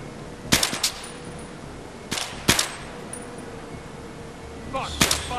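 Sparse single gunshots in the video game Battlefield 3, a handful of sharp cracks spaced a second or two apart, fairly close, with a steady low background hum between them.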